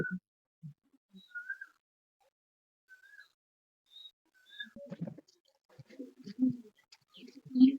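Madras pigeons cooing softly in a loft, with a few faint, scattered coos and short calls early, followed by denser low murmuring coos and rustling later.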